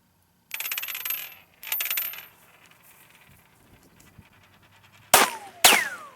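Two spinning nickels ring out with bright metallic whirring bursts, then two sharp, loud gunshots crack in quick succession during an outdoor trick shot, each followed by a short ringing tail.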